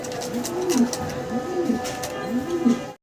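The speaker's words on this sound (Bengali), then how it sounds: "ইয়েলো কালারের এক জোড়া লাহোরি" A pair of yellow Lahori pigeons coo in repeated low, rolling phrases, three or four cycles in quick succession, close by, with a faint hiss in the background.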